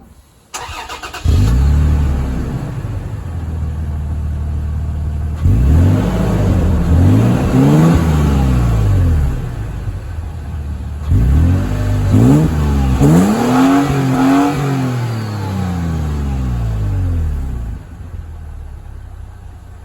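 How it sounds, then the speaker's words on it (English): Toyota Tacoma exhaust with a rerouted Y-pipe, fairly quiet, revved in three distinct bursts from idle, each rising and falling back, a steady close engine drone between them and no talking. "very, very quiet exhaust. Hardly any difference from stock unless you're driving under load, and here it is."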